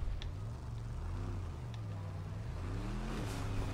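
A nitro-boosted car engine in the Fortnite video game drones and revs, its tone sliding up and down in pitch as it accelerates, loud and continuous with no talking over it.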